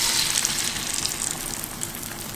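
Eggs dropped into melted butter in a pan give off a continuous close crackling sizzle, louder in the first half second and then settling to a steady hiss, with no talking.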